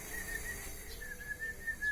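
A person whistles a thin, wavering tune in short separate notes, fairly faint against a low background hum, with no talking.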